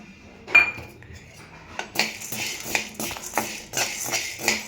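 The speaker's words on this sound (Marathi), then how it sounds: "आता आपण ही जी चना डाळ घेतलेली आहे ती सुद्धा आपण येथे भाजून घेणार आहोत" Chana dal being dry-roasted in a wok, heard as repeated metallic scraping and clinking of a spatula against the pan, close and fairly loud with a steady stirring rhythm and no talk.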